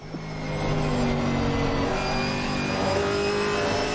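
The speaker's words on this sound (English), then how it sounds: "Just got a great engine sound on it." Corvette GT4 race car engine revving steadily inside a racing video game, a loud sustained mechanical drone with shifting pitch that fades in quickly and holds without talk.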